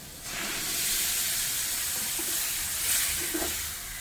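Chopped cabbage tempering in a pan sizzles and hisses steadily, a loud, close, continuous frying crackle with a brief swell toward the end.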